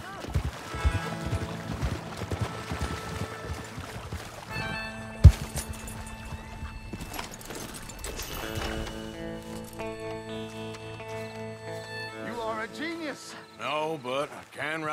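Rhythmic hoofbeats of a galloping horse in Red Dead Redemption, mixed with music, effects and some talk; a whinny may appear.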